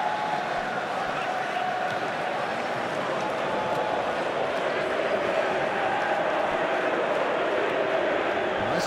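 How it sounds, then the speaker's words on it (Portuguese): Steady crowd noise from a simulated football match in PES 2021, Argentina against Australia, a dense continuous wash of stadium applause and murmur with no clear breaks. "torcida aplaude"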